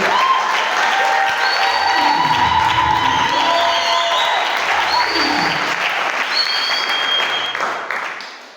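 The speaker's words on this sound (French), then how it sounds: "Est-ce qu'on peut acclamer très fort le Seigneur?" A church congregation at a Sunday service breaks into loud, sustained applause and cheering that fills the room, with whoops rising above the steady clapping.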